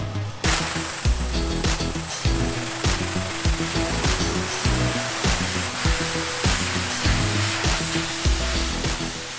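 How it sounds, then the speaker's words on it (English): A pressure washer blasts rust and old paint off the pickets of a wrought iron fence, a loud, steady hissing spray that pulses in short repeated bursts as the wand sweeps along the bars. "let's see what the pressure washer will do on this"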